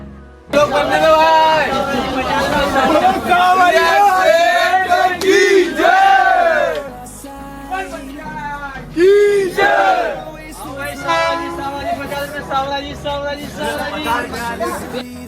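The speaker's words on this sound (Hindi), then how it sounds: "हमने थोड़ी सी मस्ती की और सेठों के सेठ सांवरिया सेठ के जयकारे लगाए।" Large crowd of pilgrims at a railway station shouting devotional chants for Sanwariya Seth, loud and continuous, with massed voices rising in repeated waves of cheering throughout.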